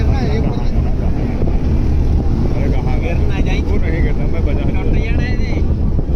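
A moving tractor carries riders on a cold day after rain, its engine rumbling steadily under strong wind buffeting the microphone, with people talking over it.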